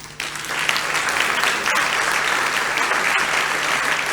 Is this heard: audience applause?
yes